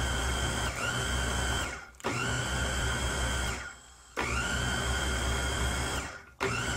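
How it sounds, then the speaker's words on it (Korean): A blender grinds seasoning with fish sauce and cooked rice for radish water kimchi, whirring loudly in three long bursts, each starting abruptly and winding down with a falling pitch between runs. "이제 믹서기에 갈아 주시면 되겠습니다"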